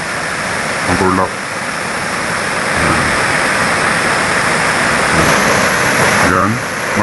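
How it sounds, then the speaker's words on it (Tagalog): Steady, loud roar of a tall waterfall, unbroken broadband rushing water filling the whole stretch, with a brief voice passing over it near the start and again near the end. "Mataas tong falls dito, buddies."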